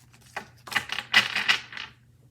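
A Psychic Tarot Oracle card deck is shuffled by hand, giving a quick series of papery riffling and flicking bursts over about a second and a half, fairly close and with no talking.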